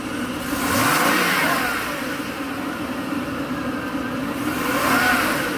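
A Mercedes S500 W140 V8 with catalytic converter trouble revs up twice from a steady idle, the engine swelling and settling in smooth, loud surges, heard up close with no talking.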